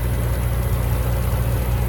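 A 2017 Bentley Continental GT Speed's 6-liter twin-turbo W12 idles up close in the open engine bay, a loud, steady low rumble with an even hum and no talking.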